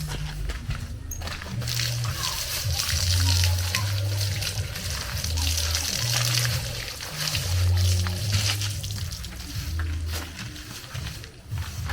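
Lemongrass being washed by hand in a bowl of water for an African swallow dish, with steady splashing and sloshing close by, mixed with low rumbling background noise.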